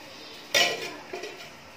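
Metal spoon scraping ghee into a cooking pot for besan curry, one sharp clink on the pot followed by a softer second scrape, close and brief against a quiet kitchen background.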